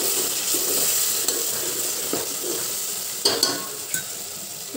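Chili powder, turmeric and masala frying in a pan with tomato, a steady soft sizzle with occasional stirring scrapes, close and alone without talk.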